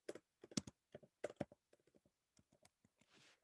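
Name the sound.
typing on computer keyboard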